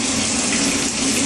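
Water pours steadily while a coffee machine is rinsed out, a loud, close, continuous gushing rush with no break and no voice.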